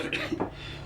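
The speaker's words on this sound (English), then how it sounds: "Pardon my coughing, I have a bad cold." A short, rough cough from a man with a bad cold sounds close by, with a brief throat-clearing quality, and a faint voice is present in the background.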